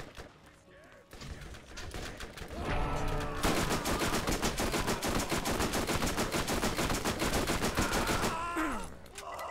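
Shotgun blasts and rapid automatic gunfire from the video game Monday Night Combat, loud and dense for most of the stretch, rattling continuously with heavy overlapping bursts before easing off near the end.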